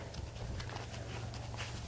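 A horse trots on a farm under a rider, its hooves landing in a quick, even clip-clop rhythm against a constant, noisy background.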